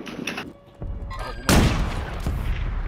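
Gunfire in the video game Warzone, a few scattered shots followed by a loud, sharp burst of rapid fire with a rumbling tail, over a background of game ambience.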